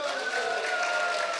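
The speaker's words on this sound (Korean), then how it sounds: "동의하면 한번 박수 한번 쳐주세요" Applause from a rally audience at a Mokpo freedom-village gathering, a steady dense wash of many hands clapping throughout, moderately loud and even, with faint tonal hum underneath.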